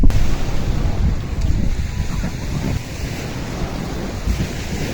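Rumbling surf and wind buffeting the microphone, a loud churning wash that eases a little, with no talking.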